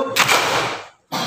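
Classroom applause on a teacher's cue, heard as one sharp burst of many hands clapping together, then a brief silence before a second burst starts near the end.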